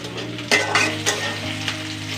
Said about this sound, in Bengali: এই মাছটা রান্না করার জন্য চুলার মধ্যে দিয়ে দিয়েছি তেজপাতি, কাঁচা লঙ্কা, তেলে ভাজতেছি